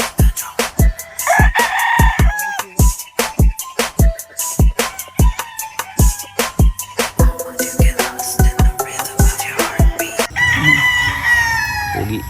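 A pure Paul Spark Gray gamefowl rooster crows repeatedly on a game farm, loud and close, among a rapid series of sharp clucks and calls from nearby fowl.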